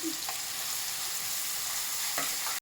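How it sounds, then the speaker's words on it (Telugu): Ingredients frying in a pan for a garlic-chilli egg curry, an even, close sizzle of hot oil with a couple of faint stirring scrapes, no voices, stopping abruptly. "ఇలాగా మనము కొద్దిగా మనకి వేగేంత వరకు మనం వేయించుకుందామండి"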